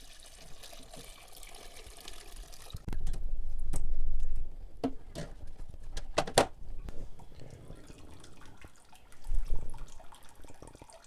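Beef bone broth pours from a lifted pot into a jar, giving a sloshing liquid stream that swells for a few seconds, followed by scattered clinks and drips and another brief pour near the end.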